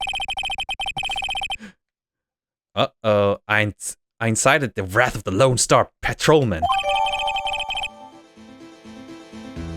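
A cell phone ringtone from the Phoenix Wright video game trills in short electronic bursts at the start, then someone talks over game sounds before a melodic ringtone phrase returns and carries to the end.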